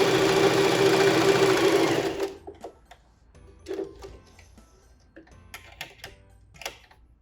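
A sewing machine fitted with a size 11 needle runs a steady stitching burst through fabric for about two seconds, close and loud, followed by sparse small ticks and clicks of handling.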